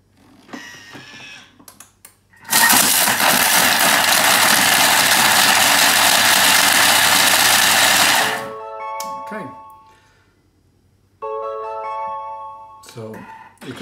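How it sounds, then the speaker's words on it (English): A Thermomix bowl holding eggshells runs at high speed for a few seconds, giving a loud, steady grinding roar with the shells rattling against the bottom of the bowl. It cuts off sharply, and brief sounds and voices come before and after. "The eggshells will be scrubbing the bottom of the Thermomix bowl"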